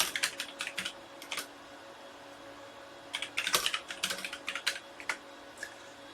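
Typing on a computer keyboard, quiet bursts of clicky keystrokes with a pause in the middle, close and alone.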